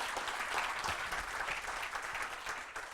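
An audience at a 1 Million Cups Wichita startup pitch event applauds a presenter, with steady, dense clapping from a mid-sized crowd that is fairly close and holds at an even level throughout.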